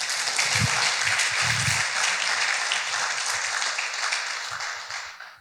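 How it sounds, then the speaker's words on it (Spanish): Dense applause from a church congregation at a men's congress, loud and continuous from the start, with a few voices underneath, fading out toward the end. "Denle un aplauso"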